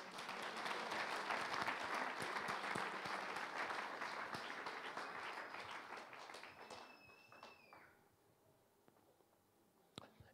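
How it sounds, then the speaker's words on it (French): A church congregation bursts into loud, sustained applause and cheering that gradually fades over several seconds, followed by quieter room sounds and a sharp tap near the end. "Acclame-le encore."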